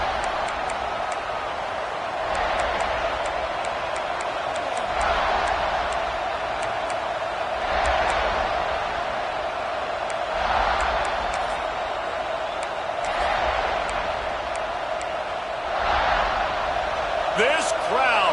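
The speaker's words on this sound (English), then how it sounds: "This crowd, full throat, splitting the eardrums and letting them know it's going to be a long day" A packed stadium crowd at an American football game roars in a broad, sustained wash of noise that swells in repeated waves, heard from a distance under a commentator's voice.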